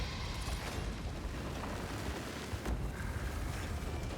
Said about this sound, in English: Let's detonate everything.